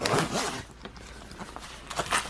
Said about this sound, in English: a nice sturdy metal zipper